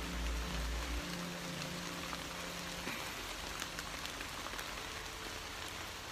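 Heavy rain pours down steadily, a dense wash of drumming drops with no voices, a low rumble fading out after the first second.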